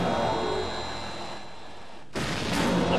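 Cannon fire in the war game Battle Battalions: a steady, dense battlefield rumble with a sudden loud blast near the end.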